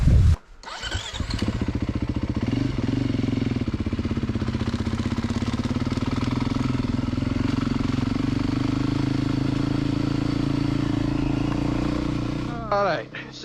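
A Beta RR 430 dirt bike engine runs steadily while riding on a trail on the Kapiti coast, a continuous close drone that starts up after a brief opening bump and fades near the end, with no talk.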